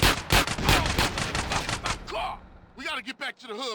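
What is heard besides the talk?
gunshots in the video game GTA San Andreas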